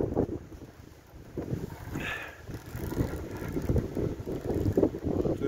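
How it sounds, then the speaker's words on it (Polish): Wind gusts over a small wind turbine under generator test outdoors, a broad rushing roar that builds and grows louder toward the end, with no talk. "O, teraz tak zawiało."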